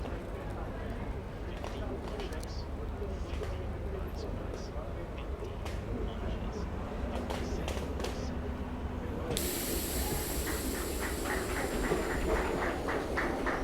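A passenger train runs along the new Dandeli to Alnavar line through Kali Tiger Reserve forest, giving a steady, close rumble with rattling, clicking wheel noise that brightens and hisses toward the end.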